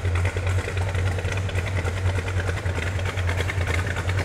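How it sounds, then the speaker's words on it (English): Big-block Mopar V8 in a Dodge Super Bee idling with a loping exhaust, a steady loud rumble with a rhythmic uneven pulse, heard close with no talking. "You hear that lope of that big block Mopar engine?"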